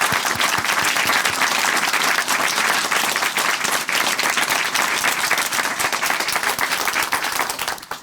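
Steady, dense applause from a studio audience at a Korean Christian testimony program, loud and continuous for about eight seconds with no voices over it.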